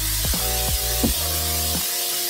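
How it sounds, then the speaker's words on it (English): A continuous hiss of cooking spray spreads across a pan before cooking eggs, with a faint low tonal hum underneath. "I'm gonna spray that down for the eggs"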